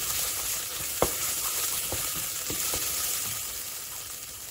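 Green chilies and garlic sizzle steadily in a pot for Persian lentil stew (khoresheh addas), with a few soft scrapes and taps of the stirring spoon over the constant frying hiss.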